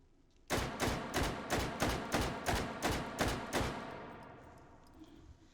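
Rapid semi-automatic SKS rifle fire in the VR shooter Hot Dogs, Horseshoes & Hand Grenades: nine loud, evenly spaced shots in about three seconds, each sharp crack trailing into a decaying reverberant tail, no voices.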